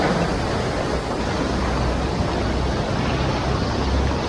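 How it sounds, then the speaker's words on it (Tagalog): Strong sea waves at a beach at Infanta, Quezon, forming a loud, dense and continuous wash of surf and rushing water with wind buffeting the microphone. "Oh, lakas ng alon dito."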